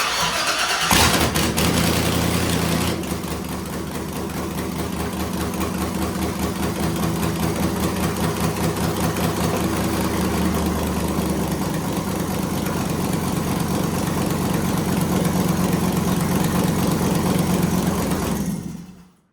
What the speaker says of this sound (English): So here we go for the first attempt at a start.